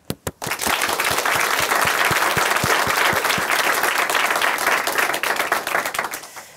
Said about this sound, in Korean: 앞으로 은하 자매님의 믿음의 삶 함께 박수로 응원해드리도록 하겠습니다.